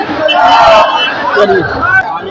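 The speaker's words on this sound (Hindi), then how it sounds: "यहाँ पे जो भीड़ लगी हुई" A crowd of gram panchayat assistants at a protest outside a collectorate produces a close, loud babble of overlapping voices with no single clear speaker.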